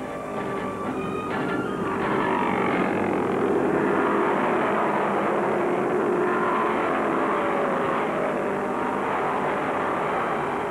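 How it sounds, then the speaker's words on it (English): Chevrolet stock car engines roar continuously at Bristol International Raceway during a 1973 NASCAR race, a loud sustained high-revving drone with passing cars swelling and fading. "Cale screams his Chevy into the lead once again"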